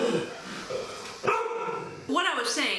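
A dog barks a few times nearby in a home, with the barks overlapping a person talking.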